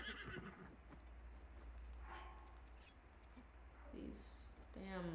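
A horse neighs and whinnies in a video game, with hooves clip-clopping against a steady low game hum. A player talks over parts of it.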